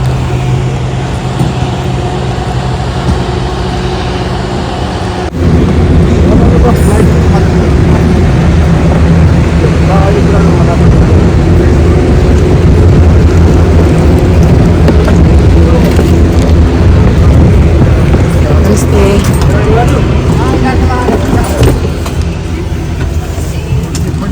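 Buddha Air airplane at an airport, heard as a loud, steady roar that swells after the first few seconds and holds as a continuous broadband rumble, with voices faintly mixed in.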